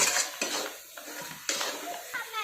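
A spoon scrapes and clanks against a kadhai while a thick carrot burfi mixture is stirred over high heat, a series of close metallic scrapes every half second or so with faint sizzling.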